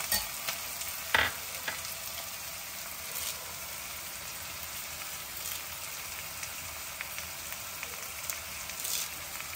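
Green chillies and curry leaves sizzle in hot oil for a prawn curry, a continuous rain-like hiss with an early sharper pop, fairly quiet and steady, with no voices.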